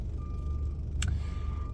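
A delivery truck from a plant farm reverses into a feed and seed co-op lot, its backup beeper sounding in steady tones over a low engine rumble, interrupted by one brief sharp hiss.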